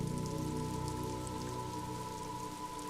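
Rain falling in the video game Disco Elysium, a soft steady patter of drops on surfaces over a low tonal ambient drone, quiet and unbroken throughout.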